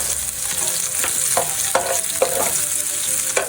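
Ginger dropped into a hot pan for squid adobo sizzles steadily, with several sharp scraping stir strokes of a spatula cutting through the continuous frying hiss, close and fairly loud.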